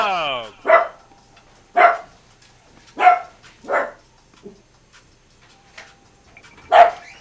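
A dog barks in the Fortnite video game, five sharp, evenly spaced barks of moderate loudness over a quiet background, with a faint tone and clicks between them.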